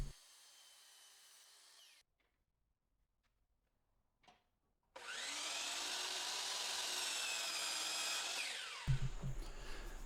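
Two wooden bed legs taped together are cut at once with a power saw, a steady loud whine running about four seconds after a short burst and a quiet pause, ending with a low thump.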